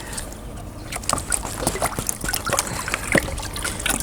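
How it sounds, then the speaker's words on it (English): Water is wrung out of a chamois cloth after cleaning gold concentrates. It comes as irregular splashes and drips close up, with wet squelching and trickling over a low background hum. "Squeeze all the water out of the chamois."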